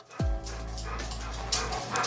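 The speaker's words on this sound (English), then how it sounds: "Sorry about the panting. Luna's getting old." An old dog named Luna pants steadily close by, quick rhythmic breaths after a short low sound at the start, in a home kitchen during baking.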